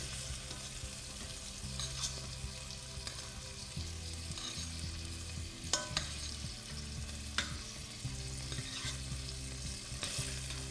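Beef frying in a pan over a very high flame, a steady loud sizzle with stirring clatter running throughout, no voices.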